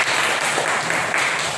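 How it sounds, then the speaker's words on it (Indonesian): Applause for a student group in a classroom, a dense burst of many hands clapping at once, steady and fairly loud throughout the short moment. "Tepuk tangan untuk kelompok"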